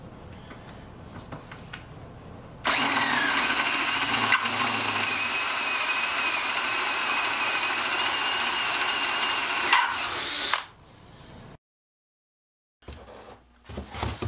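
A drill bit freshly sharpened on a Black & Decker #7980 drill sharpener bores through a pilot hole. The drill holds a loud, steady whine for about eight seconds, then stops abruptly into near silence.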